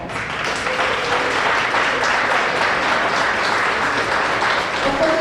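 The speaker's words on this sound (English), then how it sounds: "Will you please give Mark Williams a round of applause?" A roomful of people at an awards luncheon applauds steadily, a dense wash of clapping that holds at an even level throughout.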